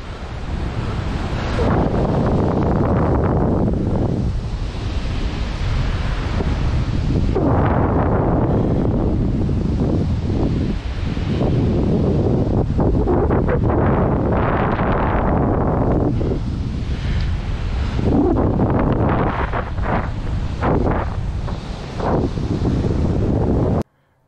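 Strong wind rushes past the microphone while paragliding near a beach with the wind from behind, a steady roaring buffet mixed with the wash of surf, loud and continuous throughout.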